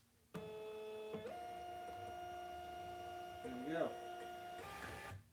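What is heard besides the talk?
printer printing a shipping label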